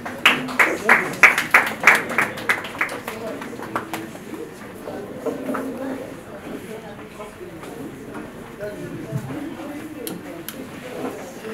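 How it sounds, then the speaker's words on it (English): A presentation audience claps in a round of applause: a dense burst of hand claps that fades quickly after a few seconds, leaving room murmur and scattered noise. "A round of applause, please."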